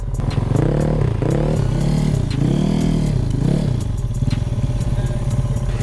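A Vespa scooter engine revs hard and close, its note rising and falling in several surging bursts over a steady idle rumble, loud throughout with no talk.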